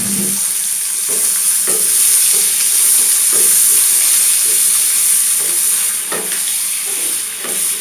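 Onion and garlic frying with dried fish (shutki) in a pan: a loud, steady, close sizzle with occasional stirring scrapes and knocks, and no talking.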